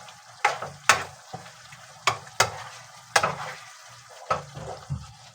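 Chicken curry in coconut milk simmering over low heat, with a spoon stirring the pot in repeated sharp scrapes and clacks over a soft steady bubbling, close and fairly loud, no voices.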